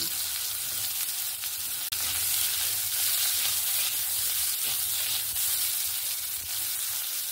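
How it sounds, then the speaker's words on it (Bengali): Thinly sliced potato and bitter gourd frying in oil in a pan, a steady dense sizzle with no pauses apart from one brief dip. "আলু আর উচ্ছেটাকে আমি এরকম সরু সরু করে কেটে রেখেছি। আর এটাকে একটু হালকা ভেজে নেব"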